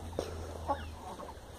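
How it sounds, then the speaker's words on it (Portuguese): A chicken clucks in a few short, quiet bursts over a steady low background hum. "Sai daí, galinha."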